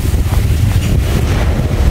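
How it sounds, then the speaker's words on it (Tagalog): Strong wind gusts roar steadily across a backyard vegetable garden planted with eggplant, tomato and papaya, a dense continuous buffeting rumble right at the microphone with no pauses. "Yan, lakas ng hangin."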